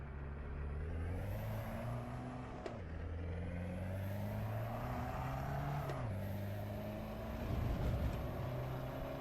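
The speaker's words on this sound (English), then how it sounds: "Car feels noisy." Car engine in the racing game Assetto Corsa Evo drones steadily at moderate volume, pitch rising and falling through gear changes with two brief dips between shifts.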